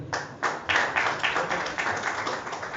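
Audience applause welcomes a speaker onto the stage at a foundation oath ceremony in India, a steady moderate clapping from a small crowd with rhythmic bursts lasting throughout.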